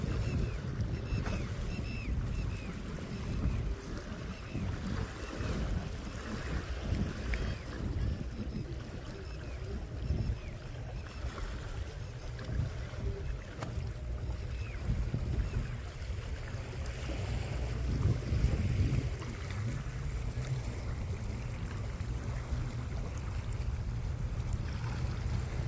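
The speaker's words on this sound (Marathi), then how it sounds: "आणि ही पाण्याचा आवाज तुम्ही ऐका" Steady flowing, lapping water at a lakeside camping spot, a continuous low wash with gentle wind, heard alone without talk for nearly half a minute.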